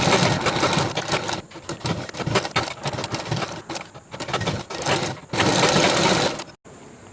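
A sewing machine stitching the border of a chudidhar top, running as a loud, close, fast mechanical whir in several bursts with short pauses between, the last stop abrupt.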